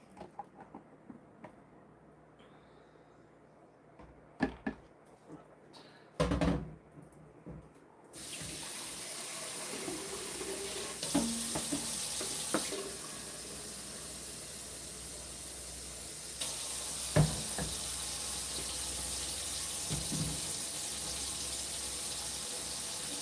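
A kitchen tap runs steadily for a long stretch after a few clatters, the water hissing and splashing as something is rinsed off, with small knocks and shifts along the way.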